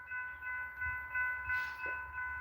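A southbound train rolling past a trackside spot, a steady rumble with a sustained horn tone and a brief louder swell, moderately loud and alone.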